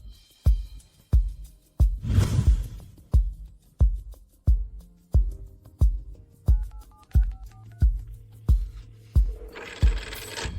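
A mobile phone places a call, giving a steady series of about a dozen evenly spaced loud pulses followed by short tonal beeps and a brief burst of ringing at the end, with no talking.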